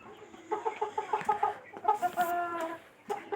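Home-raised chickens cluck in a rapid, rhythmic series of close, fairly loud calls, with a brief pause and then more excited clucking, with no talking.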